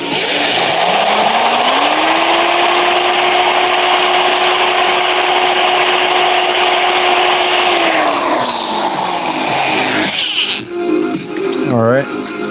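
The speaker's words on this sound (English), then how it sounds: "See if I can't drill it out one more time" A power drill whines loudly at a steady pitch for several seconds, then spins down, followed by rough grinding and scraping of the bit, close by.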